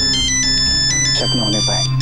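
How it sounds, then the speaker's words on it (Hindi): A mobile phone ringtone plays a loud, sustained electronic tune in a repeating pattern, with a person speaking over it. "भाई तू फोन उठा"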